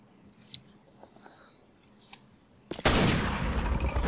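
Turret gunfire in the Half-Life video game: after a few faint clicks and thuds, a sudden loud continuous burst of automatic fire erupts and keeps going to the end.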